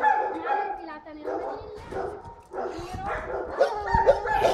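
A dog on a leashed walk yips and whimpers excitedly in short, repeated bursts close by, mixed in with a person speaking.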